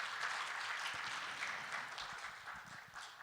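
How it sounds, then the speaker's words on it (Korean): An audience applauds a speaker at a media conference session, and steady, moderately loud clapping from many hands carries through and fades slightly toward the end. "서희정 팀장님께 다시 한번 큰 박수 부탁드립니다."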